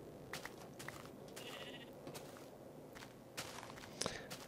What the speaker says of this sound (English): Hello, Mr. Pink Sheep.